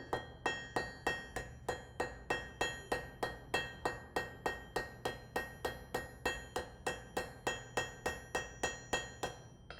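A farrier's clipping hammer strikes an anvil in a fast, even run of about thirty bright metallic clinks, each with a short ringing tail, close and steady without talk.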